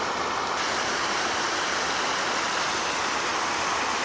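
A waterfall cascades over large boulders into a pool below, producing a steady, dense rushing roar close by with no break throughout.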